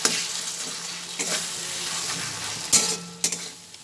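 Jackfruit curry with yogurt stirred in a frying pan: a soft, continuous sizzle with scraping stirring strokes and a few sharper knocks of the utensil against the pan, close and moderately loud.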